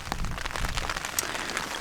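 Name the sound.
rain falling on a tent while camping in the mountains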